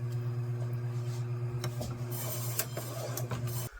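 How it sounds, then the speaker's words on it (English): An Avantco 10-inch meat slicer runs with a steady motor hum while slicing homemade honey mustard pork loin deli ham, with light scraping and soft ticking as slices fall, continuous throughout at close range. "I'm just running off some slices here using my Avantco 10-inch meat slicer"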